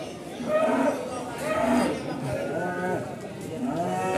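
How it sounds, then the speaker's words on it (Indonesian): Simmental cattle at a cattle market in Pati, gathered for the Qurban sacrifice, give a couple of low moos that rise and fall against a busy background of nearby talk and crowd noise. "Kita lanjut, dan ini juga ada sapi simetal"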